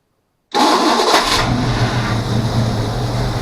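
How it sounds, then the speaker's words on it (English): An old truck engine cranks briefly with a rough-sounding starter, then catches and roars to life, settling into a loud, rough, steady idle up close. "Starter sounds a little rough."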